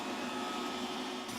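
A robot vacuum runs over a household rug with a loud, steady whirring hum that stays constant throughout.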